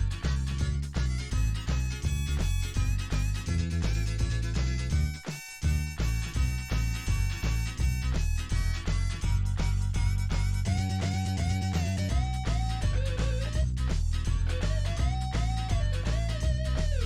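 A Super Nintendo game soundtrack plays continuously, a dense layered arrangement with steady bass pulses, bright melodic lines and a brief dropout near the middle, with no talking over it.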